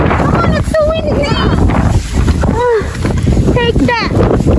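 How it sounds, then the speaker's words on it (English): Strong snowstorm wind blasting loudly against the microphone in a continuous roar, while people talk and exclaim over it throughout. "it's so windy."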